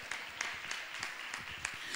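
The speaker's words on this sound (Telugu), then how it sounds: "నమ్మితే ఒకసారి చప్పట్లు కొట్టి ప్రభువుని మహిమపరుద్దామా?" A church congregation at an annual convention claps together in praise of the Lord, a steady rhythmic beat of hands heard from a distance and fairly faint, over a soft room murmur.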